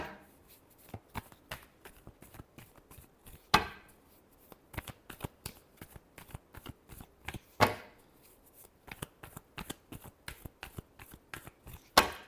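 Tarot cards are shuffled by hand in a quiet room, giving a rapid run of soft riffling flicks with a few sharper slaps of the deck along the way.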